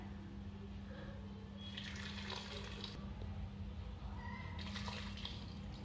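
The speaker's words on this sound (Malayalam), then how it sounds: "ഈ ഒരു ഗ്ലാസ് അളവില് രണ്ട് ഗ്ലാസ് വെള്ളം ആഡ് ചെയ്യാണ്." Water poured into a pressure cooker for an Onam kootu curry, a steady running splash in two louder bursts over a constant low hum, no talking.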